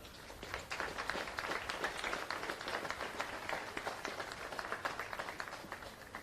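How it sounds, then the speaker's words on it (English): A crowd applauds the Castletown Geoghegan hurling team at the 2020 Westmeath senior hurling final, with dense, steady clapping sustained throughout. "give Castletown Geoghegan a round of applause for their efforts"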